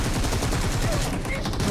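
Rapid automatic gunfire sprays in PUBG Mobile, a dense continuous rattle of shots loud in the foreground for under two seconds.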